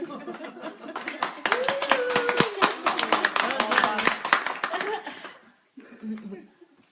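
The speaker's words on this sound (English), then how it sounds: "we are clapping for Maria because she was daunted by having to speak so publicly or online" Clapping for a woman named Maria at an online interview gathering: a few hands tapping sharply in a loose, uneven burst with light laughter and chatter mixed in, close and moderately loud, trailing off, then a short voice at the end.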